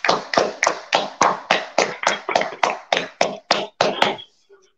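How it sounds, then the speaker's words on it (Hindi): Audience applause for a guest at an interview, heard as a rapid series of about fourteen sharp, evenly spaced claps that fade at the end. "इसलिए एक बार सोम सर के लिए ताली।"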